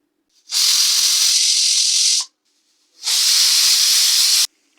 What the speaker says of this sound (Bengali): দুটো সিটি হয়ে গেল এবারে আমি গ্যাসটাকে অফ করে দিচ্ছি